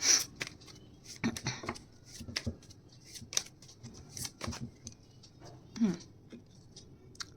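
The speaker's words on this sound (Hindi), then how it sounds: "हम एक बार शफल और मार लेते हैं।" Tarot cards being shuffled in short bursts of soft riffling and flicking, with irregular rustling spread across the stretch, close and fairly quiet, with no talking over it.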